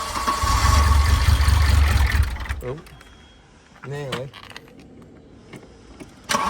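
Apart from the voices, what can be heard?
car engine cranking and starting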